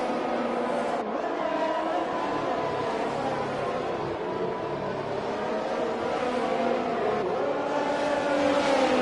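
Race cars, including an Aston Martin in pursuit, roar continuously through turns in an online racing video game league, with a steady engine drone that rises and falls slightly as revs change, loud and close throughout.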